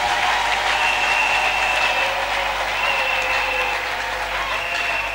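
Sustained applause fills a church service in praise of Jesus Christ, a dense steady wash of clapping with a faint tonal hum running beneath it throughout.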